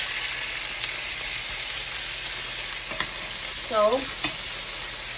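Chicken thighs fry in a pan with a constant, bright sizzle close by, and a few brief stirring scrapes and clinks break through near the end under a single short spoken word.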